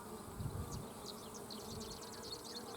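Honeybees hum in a dense, steady drone at an open, well-stocked hive, soft and continuous throughout with no voices.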